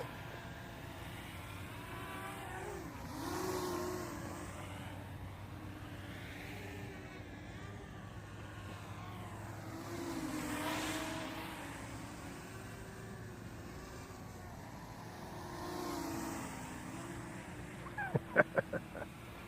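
A Xinlin X181 quadcopter drone in flight, a faint buzzing motor whine that rises and falls in pitch as it swoops closer and away, with a few sharp clicks near the end.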